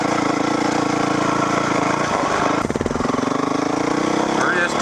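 A Kawasaki KDX dirt bike engine runs steadily at a moderate distance during break-in riding, with a brief burst of louder pulsing partway through; there is no talk.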